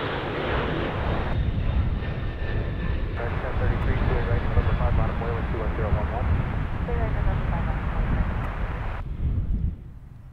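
Jet airliner departing from Chicago O'Hare airport, a loud continuous roar with whining engine tones heard from nearby over wind buffeting on the microphone, fading slightly at the end.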